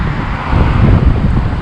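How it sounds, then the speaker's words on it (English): Strong wind gusts at a lake buffet the microphone in a loud, dense roar, rising briefly in the middle of the short stretch, with no speech. "boy, the gusts are really picking up"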